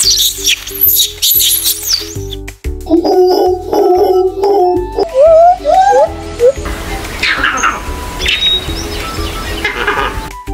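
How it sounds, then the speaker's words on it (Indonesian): A monkey gives loud, close calls: high chattering squeals, then a run of rising hoots and wavering cries, with some noisy rustling toward the end. "Monkey."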